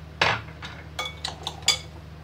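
Vegetables, garlic and spices being stirred together in a pot for an Egyptian meat-and-onion tagine, giving several separate metallic clinks and scrapes of a utensil against cookware, close and fairly quiet, with no talk.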